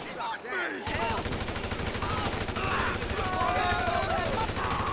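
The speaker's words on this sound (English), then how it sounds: "Just park here and then just start shooting." Gunfire in a GTA 5 Online shootout, a dense burst of rapid shots that starts abruptly after a brief quiet moment and keeps going steadily and loudly, with a voice speaking over it.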